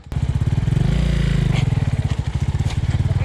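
A dirt motorcycle engine revs hard in muddy terrain, a loud, close, rapid staccato thumping that rises and holds, then chugs unevenly toward the end.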